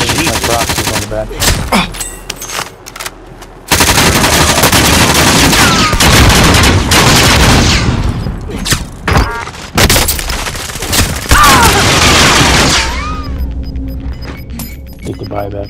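Rapid bursts of automatic gunfire and explosions from Call of Duty: Modern Warfare, loud and dense across most of the span, with a quieter lead-in and fading tail; talk runs over parts of it.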